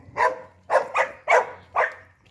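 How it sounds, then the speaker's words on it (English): A dog barks five times in quick succession, loud and close, with short gaps between the barks, while being passed on a walk by its handler. "Don't like being barked at."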